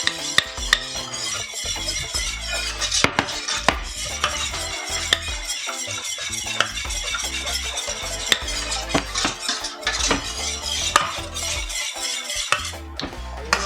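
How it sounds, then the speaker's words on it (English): A whisk beating cornmeal into water in a pot to make a smooth porridge, with rapid rhythmic scraping and clinking against the pot sides, close and fairly loud, with no speech. "I'm gonna use my whisk to combine it and make it quite smooth so there's no lump"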